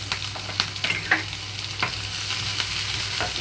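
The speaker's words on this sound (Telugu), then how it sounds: "పచ్చిమిరపకాయలు వేసి వేయించుకుంటున్నాను." Chopped onions and green chillies frying in a pan for a capsicum and chana dal dish, a close steady sizzle broken by sharp crackles and stirring scrapes, with no talking.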